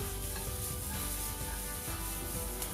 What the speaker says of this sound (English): I took some shallots and the chard stems and sauteed them